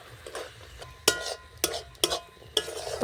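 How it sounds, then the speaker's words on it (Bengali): Spices and drumstick flowers are stirred in a pan, with a faint sizzle under four or five soft scraping knocks of a spoon against the metal. "ভালো করে নাড়িয়ে নিলাম"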